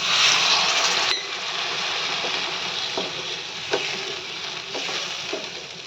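A bowl of water poured into a sizzling pan of well-fried spice paste sets off a loud hissing sizzle that shifts abruptly after a second, then keeps bubbling with occasional scraping clicks.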